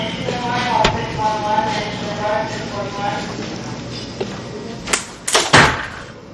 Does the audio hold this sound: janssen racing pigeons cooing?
no